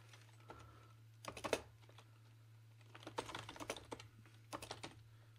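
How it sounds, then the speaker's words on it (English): Computer keyboard keys tapped in short, uneven bursts of quick clicks with pauses between, close and fairly quiet over a steady low hum. "let me type here to make the changes"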